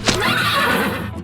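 A horse ridden along a road lets out a single loud, close whinny lasting about a second, with faint hoof clatter underneath.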